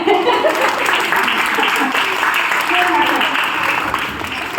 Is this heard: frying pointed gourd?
no